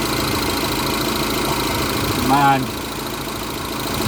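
A rebuilt Mini Cooper S with the N14 engine in the R56 body idles steadily nearby at a low, even rumble, and a brief louder rising tone cuts in midway. Someone speaks briefly over it.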